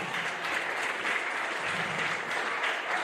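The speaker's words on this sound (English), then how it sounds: "Give a round of applause" A crowd at a wrestling show applauds steadily, with a dense wash of clapping at moderate distance and no voice over it.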